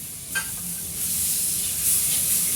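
Spice masala and tomato paste roast in a pan for a bitter gourd curry, giving a steady, close sizzle and hiss with brief stirring scrapes and no voices.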